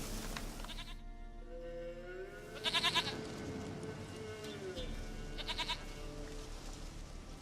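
Bleating of a goat in The Witcher 3: Wild Hunt, two or three short calls spaced a few seconds apart, clear over a soft game soundtrack.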